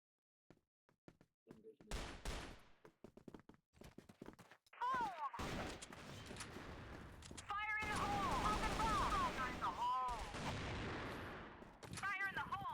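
Rapid video game gunfire in bursts, with sharp repeated shots and chattering automatic fire layered over game effects, while players talk excitedly in Filipino.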